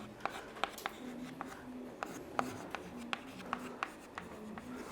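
Marker or chalk writing on a board during a chemistry lesson, heard as soft, scattered taps and scratchy strokes under a quiet classroom hum with faint voice in the background.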